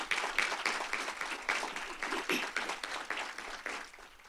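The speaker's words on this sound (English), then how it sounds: "Give him a hand of applause, please." An audience at a university faculty and staff assembly claps in steady, dense applause that holds throughout, a broad wash of many hands in a large room.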